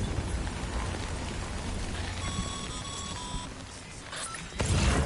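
Steady rain in the video game Death Stranding hisses in a constant wash, with a few faint electronic beeping tones partway through and a brief louder burst near the end.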